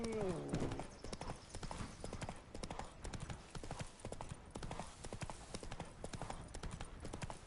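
Horse hooves trot in a fast, steady clip-clop rhythm across the ground in The Witcher 3, loud and close throughout, with a short voiced call at the start.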